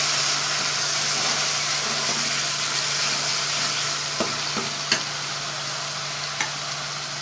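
Tomato paste being stirred into frying chicken and chickpeas (chicken chana) in a pan, with a steady sizzle throughout and a few sharp utensil clicks against the pot near the end.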